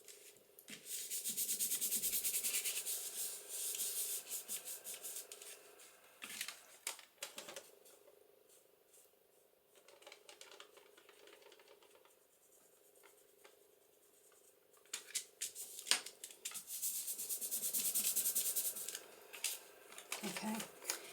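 Paper lightly rubbed by hand across a mixed-media journal page in a window-flip layout, in soft rasping bursts that start and stop over about twenty seconds, with quieter pauses between passes and some faint background talk.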